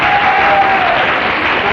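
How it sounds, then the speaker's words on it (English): A 1955 television game-show studio audience roars, with dense cheering and applause as a single loud continuous wash of crowd noise that fills the whole short moment. "I can hear the guys cheering here."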